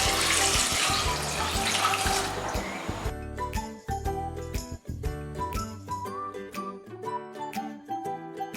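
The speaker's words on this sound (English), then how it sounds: "So let us pour some water now." Water is poured into a pot of washed river snails, a gushing splash for about three seconds that settles into lighter trickling and metallic clinks as the pot fills.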